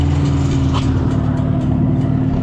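A McCormick W-4 tractor engine running steadily close by, a loud low chugging idle with an even, continuous rumble and no talk.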